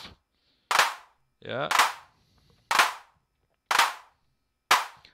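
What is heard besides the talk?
Weston Audio AD110 analog drum module clap with reverb spread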